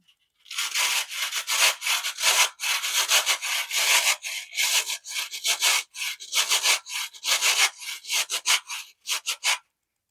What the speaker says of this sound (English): putting it on a plate and grating it